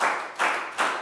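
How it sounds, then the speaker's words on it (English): A class of Year 4 students claps in unison for a classmate, three quick broad claps in a steady rhythm, close and fairly loud, with no talking. "Big round of applause for Bang Pon."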